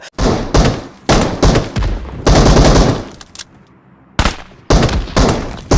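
Bursts of automatic gunfire from a gun in the mobile game BGMI, loud and close, firing in several long rapid volleys separated by brief pauses, with no talking.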